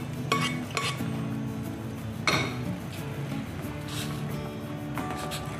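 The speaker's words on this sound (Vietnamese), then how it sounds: "Mình sẽ cho hết phần nấm vào luôn nha." Sautéed mushrooms tipped into a pot of boiling soup: utensil clinks and scrapes against the pot, with soft stirring and bubbling between a few sharper knocks.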